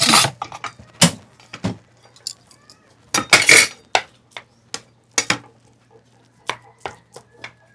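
Dishes and utensils clink and knock while food is served, sharp separate metallic and ceramic strikes arriving in uneven bursts, loud and close, with a low steady hum beneath.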